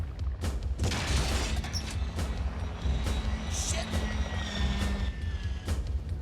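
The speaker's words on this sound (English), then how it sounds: "aiming for a real chopper hovering only a few feet away" Steady helicopter rotor thumping and engine roar from a real helicopter hovering a few feet away in a film stunt scene, continuous and loud, with sharp impacts cutting through.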